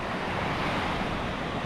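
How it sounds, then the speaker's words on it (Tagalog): Large ocean waves roar steadily at a seaside fishing spot, a dense continuous wash of surf mixed with wind noise buffeting the microphone. "grabing lalaki ng alon banda rito"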